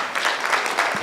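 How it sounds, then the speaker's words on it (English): A brief burst of audience applause rings out at a panel discussion on data centers in Kenya, with steady, dense clapping throughout. "Round of applause."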